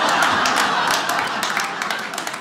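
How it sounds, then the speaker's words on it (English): Live comedy club audience at a stand-up set clapping in a dense, steady burst of applause that thins slightly toward the end, close and fairly loud. "Applaud if you're a twin here"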